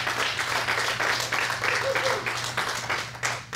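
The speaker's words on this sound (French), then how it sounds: "On n'a pas l'habitude de s'applaudir pour les décisions qu'on prend ici" A city council chamber fills with applause, a steady dense patter of many hands clapping over a low constant hum that holds for several seconds before thinning out.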